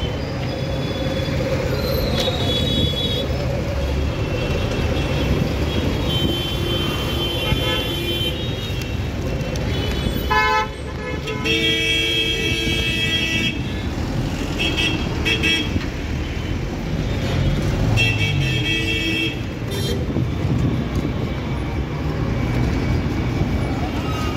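Kolkata city bus on route 41B rolling through steady, loud street traffic, with horn toots cutting in repeatedly over the continuous engine and road rumble.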